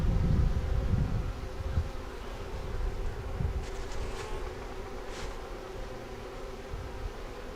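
Honey bees buzz around their hive in a continuous close hum, louder at the start and then holding steady, with light rustling underneath.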